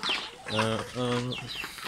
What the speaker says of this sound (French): vous allez voir avec quel empressement ces poulets là viennent manger ce truc là